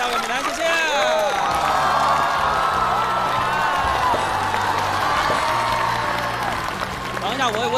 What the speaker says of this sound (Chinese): 好，掌声送上给美男，谢谢。